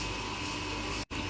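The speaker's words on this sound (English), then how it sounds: "in case you're wondering what that noise is behind me, it's my dishwasher, and it's incredibly loud and annoying" A loud home dishwasher runs in a kitchen, giving a steady, broad whooshing hum of water and motor that holds evenly, broken only by a very short dip near the end.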